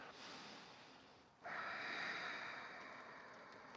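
A slow breathing exercise: one soft drawn-out breath fades away, then after a short pause a louder, airy nasal breath begins and holds steady to the end, close and unaccompanied.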